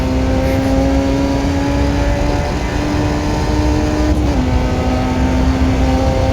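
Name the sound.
F1 junior race car engine in a racing video game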